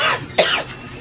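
A single sharp cough from a person, close and fairly loud, standing out briefly against quiet room noise.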